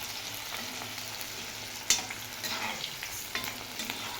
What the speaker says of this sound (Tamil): வெங்காயமும் நல்லா வதங்கிடுச்சு